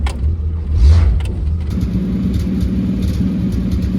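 A '65 Dodge Dart convertible's slant six engine runs close up with one cylinder dropping out at idle, starting with a low rumble and rev, then settling into an uneven, loping idle pulse with a metallic rattle, no talk.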